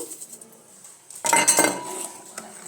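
A metal spoon stirs sugar into milk in a cooking pot, clinking and scraping against the pot's sides in a brisk, fairly loud burst that follows a quieter stretch, close by.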